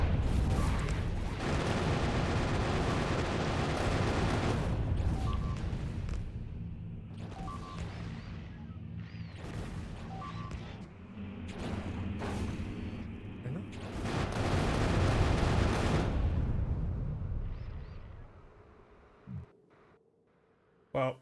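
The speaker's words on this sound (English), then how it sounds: "No, they're shooting everything!" Sustained loud barrage of gunfire and explosions from enemy laser turrets in a video game, dense booming and crackling for most of the stretch, with a voice talking over it before it fades to near silence.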